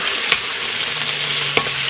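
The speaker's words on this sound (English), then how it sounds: "So I'm going to give it a stir." Steady sizzle of beef and mixed vegetables stir-frying in a pan with a couple of brief scraping stirs, close and moderately loud, no voices.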